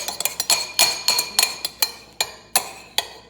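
A spoon clinks repeatedly against a bowl while stirring maple mustard sauce, with sharp, close, irregular taps about every third of a second and nothing else heard.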